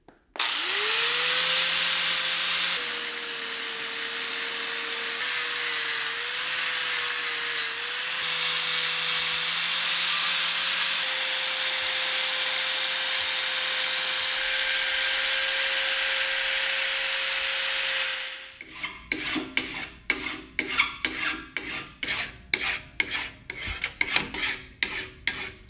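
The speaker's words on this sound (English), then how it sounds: "we just need to clean up the welds that we made the other day" Welds on a go-kart frame being cleaned up: a loud, steady rasping whine with a constant pitch runs alone for about 18 seconds, then cuts to a burst of sharp, irregular knocks and scrapes.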